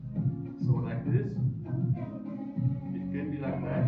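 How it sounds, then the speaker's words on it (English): Music playing in an adjoining room, steady and moderately loud with a full low-frequency body and muted highs, continuous throughout without any talking. "how this will be if in the next room there is just music."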